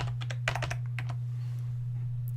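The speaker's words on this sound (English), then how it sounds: "type in your username" Quick, light key clicks on a computer keyboard come in a short, uneven run as a username is typed. A steady low hum sits underneath them.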